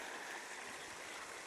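Water gushing out of a pipe into a farm field with no engine or motor pushing it: a steady, dense rushing flow, close and even, continuing without any break.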